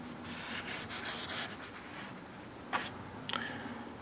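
Oil treatment is rubbed by hand onto wood cabinetry inside an RV, a soft, close rapid swishing of cloth on wood in quick strokes, fading out, then a couple of isolated brushing swipes.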